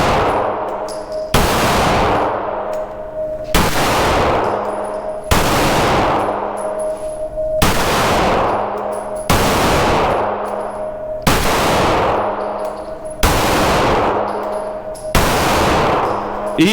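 A 9mm pistol fires Aguila 115 grain ammunition at an outdoor range, eight loud close shots at a steady pace of roughly one every two seconds, each with a sharp crack and echoing tail.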